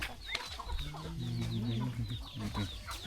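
Chickens cluck on a village farm in a close, busy run of short clucks and calls, with a longer drawn-out call in the middle.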